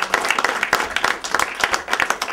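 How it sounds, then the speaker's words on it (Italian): An audience at an Italian cultural event on dialogue between peoples applauds two professors, a short burst of many hands clapping with irregular sharp claps close by. "e quindi un applauso"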